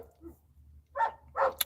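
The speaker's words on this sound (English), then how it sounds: "Woof, woof, indeed." A dog gives a couple of short, soft barks close by, with a little whimpering yip before them, in a quiet indoor room.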